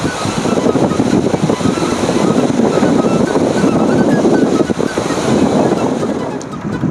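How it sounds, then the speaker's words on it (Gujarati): Heavy water pouring over an overflowing dam spillway after heavy rain, a dense, steady roar of rushing water with wind buffeting the microphone, loud and continuous throughout. "કેટલું પાણી ઓવરફ્લો જાય છે"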